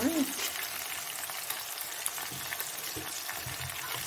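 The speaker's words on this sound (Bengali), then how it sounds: "ফ্রাই করার মতো নেড়ে চেড়ে নেবো। চিকেনের থেকে একটু জল টল বেরোনোর পরে।" Marinated chicken fries in a pan with a dense, continuous sizzle, and a utensil stirs it now and then, heard close up and fairly loud throughout.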